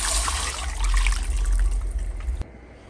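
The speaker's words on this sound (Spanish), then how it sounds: "le voy a agregar 2 tazas del caldo de res." Beef broth pours into a cooking pot, a steady close splashing gush that lasts about two and a half seconds, then cuts off abruptly, with no talking.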